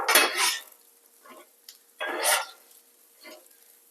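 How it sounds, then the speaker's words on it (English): French fries on a Blackstone griddle, sizzling in broad hissing bursts with clattering spatula and metal scraping as they are flipped, two loud pulses separated by quieter taps. "I can hear these sizzling. That's how I know it's time to flip them."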